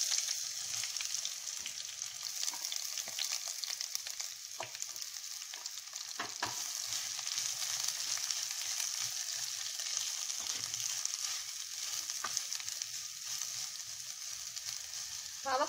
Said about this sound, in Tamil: இப்போ இதில் போட்டு வதக்கிடலாம்.